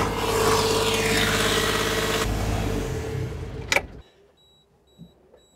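A boat's diesel engine runs with a steady, loud rumble and a mechanical clatter. Partway through, the sound shifts, then the engine stops abruptly with a brief knock, leaving near silence with faint ticking.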